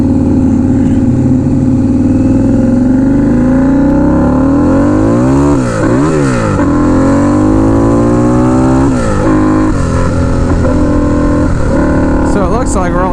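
A turbocharged Harley-Davidson V-Rod Night Rod pulling hard under boost on the street, its loud engine note rising and sweeping through gear changes, with a person talking over it.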